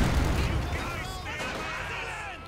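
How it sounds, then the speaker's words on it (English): Heavy mortar and battlefield gunfire from a Company of Heroes 2 match, a dense rumbling wash of distant booms and shots sustained throughout, with a commentator's voice running over it. "Heavy mortar that continues to prove a massive nuisance"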